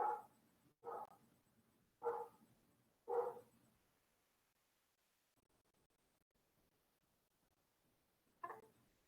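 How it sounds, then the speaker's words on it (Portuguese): A dog barks in a quick run of four sharp woofs, then falls quiet before one more bark near the end, fairly close with no talking. "se vocês escutarem o som do cachorro latindo"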